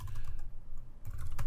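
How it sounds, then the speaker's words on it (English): Keys typed in a quick burst on a computer keyboard, entering a router command on a Cisco IOS device, close and clear, pausing briefly before another run of clicks. "I can reach global configuration mode by typing in"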